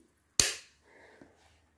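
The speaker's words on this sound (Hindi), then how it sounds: "देख रहे हैं इसका बटन अब मैं स्विच ऑन कर रही हूँ" One sharp, loud click of a switch being pressed, followed by a faint low hum and soft rustle.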